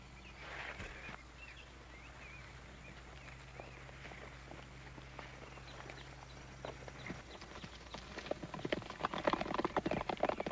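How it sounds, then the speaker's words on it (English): Horses ride off along a trail, with hooves clip-clopping at a moderate distance that build louder and busier toward the end, over faint outdoor ambience with birds. "Now get on your horses and get out of here."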